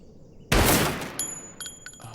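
A single loud gunshot from a video game blasts out sharply and decays over about a second, followed by faint electronic beeps and tones.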